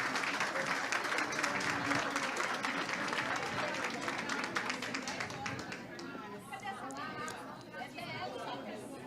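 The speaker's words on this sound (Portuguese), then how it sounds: "E eles merecem muito os nossos aplausos" A seminar audience claps loudly at first, then the applause thins and fades while a crowd chatters and voices talk over the dwindling clapping.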